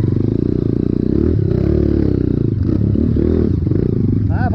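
Trail motorcycle carrying a rider and a passenger, its engine droning steadily and loudly up close, with clattering and scraping over rough ground and rising revs toward the end.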